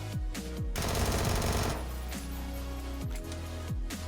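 A Vector SMG firing in PUBG, rapid fully automatic bursts at a very high rate of fire, loud and close, emptying quickly in a dense rattling stream, followed by a few shorter bursts.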